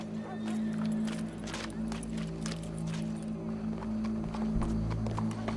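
A horse in Red Dead Redemption 2 clip-clops along at a steady pace, its hoofbeats repeating over a low, humming game backdrop, with some voices faintly present.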